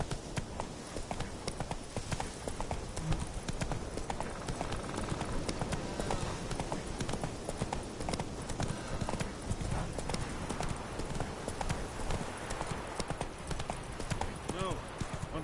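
Geralt's horse Roach trots in The Witcher 3, its hooves keeping a steady, continuous clip-clop rhythm at close range for the whole stretch, layered over dense game ambience.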